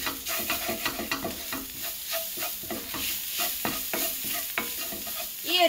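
Kashmiri chili and coriander powder sauté in a pan for a mutton dish, with rapid, rhythmic scraping and stirring strokes over a soft sizzle, close but fairly quiet, and a louder clatter at the very end.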